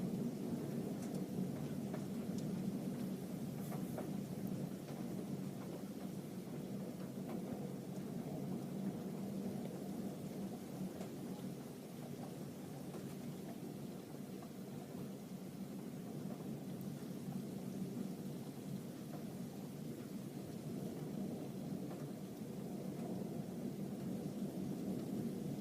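A severe thunderstorm brings a long, continuous rumble of thunder mixed with steady rain. The broad wash of sound stays loud and even throughout, with no voices.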